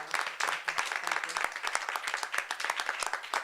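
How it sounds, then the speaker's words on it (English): A small crowd claps for Mayor Parker at a Philadelphia bill signing, a moderately loud patter of distinct individual claps with an uneven rhythm. "And so give her a round of applause."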